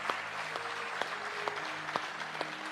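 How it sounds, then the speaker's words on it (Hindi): Applause from an audience at a Ram temple event, a steady mass of clapping running throughout, with a sustained organ-like tone held underneath and a few louder accents. "तालियां बजाएं"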